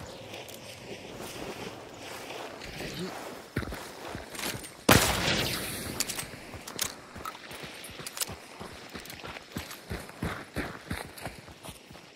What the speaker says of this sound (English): I think there's a horse.